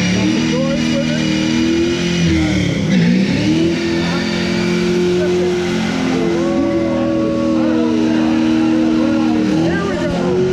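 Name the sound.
Corvette V8 engine revving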